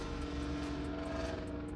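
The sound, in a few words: loud truck passing outside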